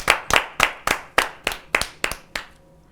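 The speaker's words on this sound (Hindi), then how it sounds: "जोरदार तालियों से स्वागत है।" About nine separate hand claps in a slow, steady rhythm, close and fairly loud, fading out near the end, as an audience welcomes a woman poet at a Hindi New Year poetry gathering.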